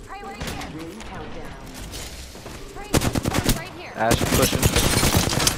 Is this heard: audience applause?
no